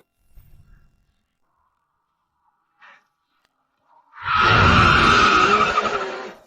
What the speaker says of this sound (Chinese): 对面动静不对劲儿啊，好像是齐耀祖那辆名牌车的动静。